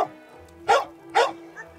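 A Staffordshire terrier crossed with a pit bull barks twice inside an outdoor enclosure in a Hutsul forest hamlet, two distinct loud barks about half a second apart, followed by a fainter yip.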